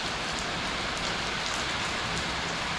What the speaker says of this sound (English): This is a quick passing storm.